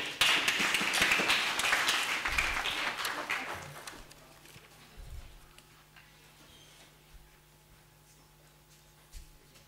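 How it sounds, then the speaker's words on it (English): Audience clapping at a convocation award ceremony in Hombolo, Tanzania, a dense round of applause that fades after a few seconds into scattered, isolated claps. "Our clappings as usual."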